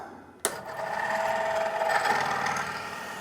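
A sharp knock followed by a steady grinding whir of a drill bit boring a hole into wood using a centering jig, continuous and close.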